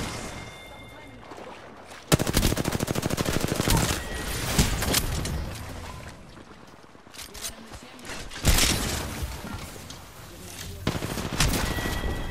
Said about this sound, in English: he's shooting me through smoke